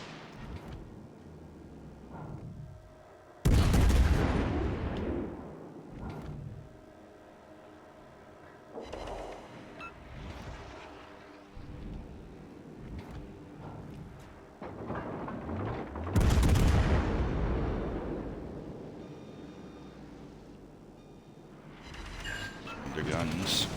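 Warship main guns fire in World of Warships Legends: two big booming salvos several seconds apart, each followed by a long decaying rumble, with quieter thuds between, under someone talking.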